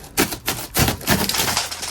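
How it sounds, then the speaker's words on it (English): The centre section of a bus panel is pushed and broken out, giving a few sharp cracks and snaps in quick succession, close and moderately loud with no talking. "once you're out, you can break out the centre bit"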